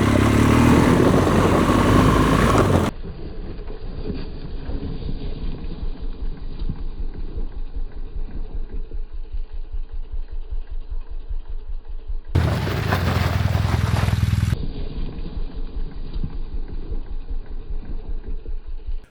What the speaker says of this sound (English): as you could see from that emergency braking, my rear wheels were locking